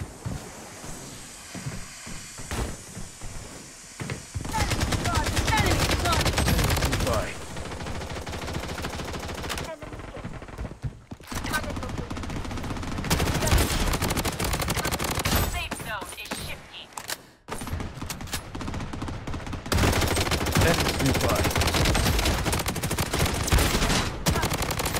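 Sustained automatic gunfire in the shooter Blood Strike roars in long, loud, close bursts, broken by brief gaps, with dense overlapping shots across the whole stretch.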